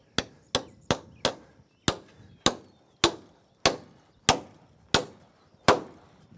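Sharp repeated impacts ring out as long screws are driven into a large wooden truss on a farm shop build: about a dozen loud, distinct bangs with short decays, spaced irregularly roughly half a second apart, with no talk.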